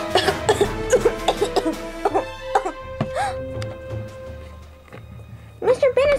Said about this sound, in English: He couldn't help it. He just had to cough.